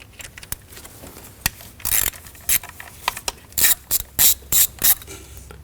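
A ratchet wrench works the 8 mm valve cover bolts on a Ford Edge engine, giving quick bursts of sharp clicking, first sparse, then several close, loud runs of rapid pawl clatter near the end.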